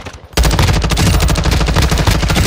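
Light machine gun fire in Call of Duty: Modern Warfare 2 multiplayer, a continuous rapid stream of close, loud shots erupting after a brief quiet start and running without pause.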